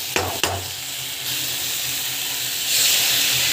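Ingredients sauté in a pan with a steady, moderate sizzle, broken early by two sharp clinks of a utensil, the frying hiss swelling slightly toward the end.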